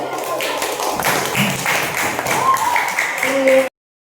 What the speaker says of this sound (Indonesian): masih tepuk tangannya dong.